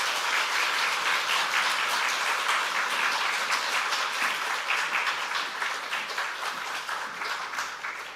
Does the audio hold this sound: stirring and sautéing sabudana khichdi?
no